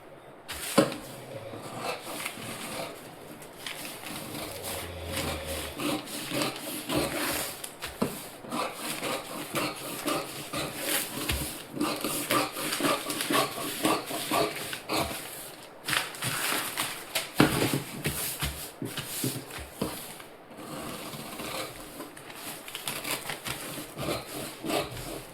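Scissors snip and rasp through blouse fabric in long, repeated cutting strokes, close and steady with short gaps as the blades reopen.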